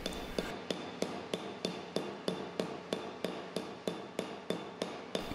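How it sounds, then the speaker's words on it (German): Flat planishing hammer tapping the surface of a sheet-metal forming die, about sixteen crisp close metallic strikes in an even, quick rhythm, with no talking. "Im nächsten Schritt wird die Oberfläche der Treibform mit dem Kletterhammer abgeklopft."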